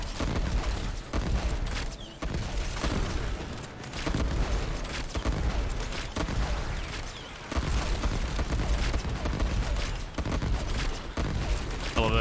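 Kuva Bramma explosive bow firing in Warframe, a rapid run of crackling, firework-like bursts and booms that stays loud and dense throughout, with brief dips between volleys.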